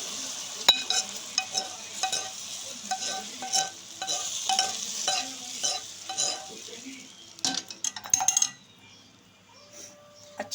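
Kheer being stirred in a cooking pot, a steady series of soft scraping strokes with faint sizzling between them and a few brighter clinks of the spoon near the end, with no talk.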